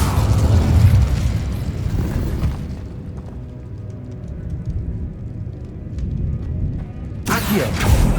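An Incendio fire spell goes off in a Harry Potter video game: a loud, low explosive whoosh at the start that rumbles and fades into a quieter roar, then a sharp burst near the end.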